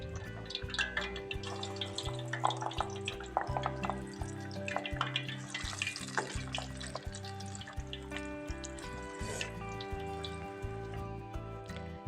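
Vada batter frying in hot oil for a Tamil vegetarian lunch spread, a steady crackling sizzle with scattered drips and pops running throughout, close and continuous with no talking.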